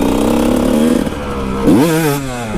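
Kawasaki KX 125 two-stroke dirt bike engine revving hard during a wheelie, a loud close buzzing note that holds steady, then dips and climbs sharply again as the throttle is worked.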